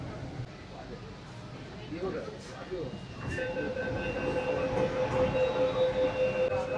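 Kolkata metro train running between Salt Lake stations on the Howrah to Sealdah line, a steady rumbling interior drone with a rising tonal whine partway through, heard from inside the carriage.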